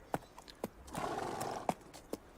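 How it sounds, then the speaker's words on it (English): A horse's hooves clip-clop slowly on a road between hedgerows at night, sparse separate beats around a soft, breathy whinny in the middle, faint and fairly distant. "Slowly, I turned my horse homeward."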